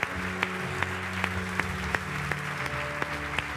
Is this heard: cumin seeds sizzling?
no